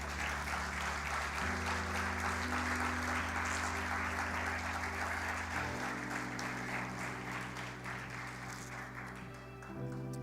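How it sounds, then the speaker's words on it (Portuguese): A church congregation applauds for about ten seconds, continuous clapping over sustained music tones, gradually softening toward the end. "Você pode aplaudir o Senhor?"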